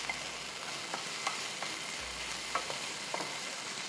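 Garlic ginger paste stirred into softened onions frying in a pan, a steady soft sizzle with a few light scraping strokes of the spoon, fairly quiet and close, no voices.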